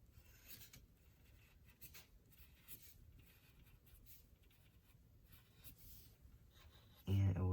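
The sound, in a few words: pencil drawing on paper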